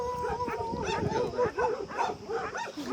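Two abandoned puppies about three months old, found on a road, bark, yip and howl in a series of short high calls, fairly close, with occasional talk underneath.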